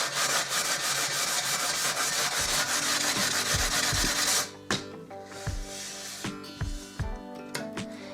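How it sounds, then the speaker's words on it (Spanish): Sandpaper steadily rubs and scrapes along a glass tray's edge for several seconds, then a series of sharp taps and knocks from handling the glass, close and fairly loud. "Cojo una lija y paso justo por el canto."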